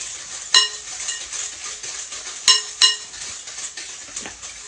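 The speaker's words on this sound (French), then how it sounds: "On mélange." Sugar being stirred into a pineapple cake batter in a bowl, with a few sharp clinks of a utensil against the bowl over a soft, steady scraping.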